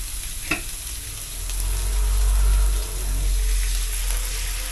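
Ingredients sizzle in a pan for pesto pasta with mackerel, a steady close frying hiss with a sharp clink near the start and the sizzle swelling louder midway, with no talking.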